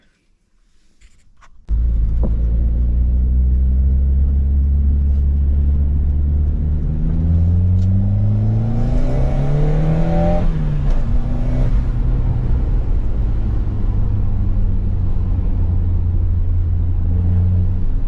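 A Ford Cosworth engine drives along narrow lanes after an electrical fault was fixed, loud and close. It starts abruptly, then revs rise and fall through gear changes before a steady drone, with no talking.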